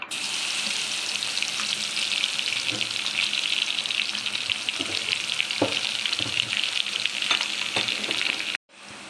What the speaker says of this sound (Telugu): హాఫ్ స్పూన్ జీలకర్ర బాగా ఫ్రై చేసుకోవాలండి